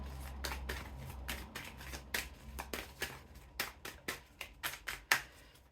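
Tarot cards being shuffled up close, with a rapid series of crisp riffling bursts in an uneven rhythm that grow sharper toward the end, heard alone in a quiet room.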